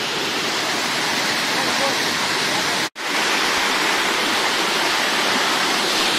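A waterfall near the Fruit Haven 9 boundary marking rushes steadily, a dense, loud, unbroken roar that cuts out for an instant midway and then resumes at the same level.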